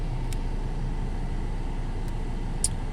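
A 2019 Jeep Cherokee Latitude Plus FWD engine runs after starting, a steady low idle rumble heard close, with a few faint high ticks over it.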